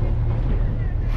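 On board an Istanbul ferry heading to the Princes' Islands, a brief, steady low engine rumble with wind noise, close and continuous.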